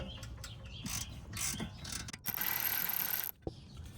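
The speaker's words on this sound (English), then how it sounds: "you can loosen it up with a 3/8 ratchet and the socket. Crack the bolt loose." A 3/8 ratchet and socket crank loose a rear brake caliper bolt on a BMW 230i, giving close rapid clicking pawl bursts and a longer whirring run of clicks, then a short knock.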